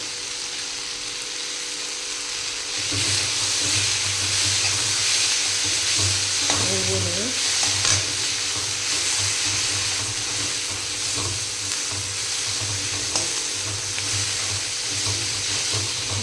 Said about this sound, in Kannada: ಚಂದಾಗಿ ಹುರಿಬೇಕು ಇದು ಹಸಿ ವಾಸನೆ ಹೋಗೋ ತನಕ